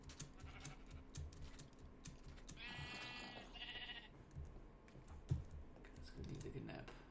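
Sheep bleat in the video game Minecraft, two drawn-out bleats in the middle over quiet keyboard typing and clicks, all faint and close.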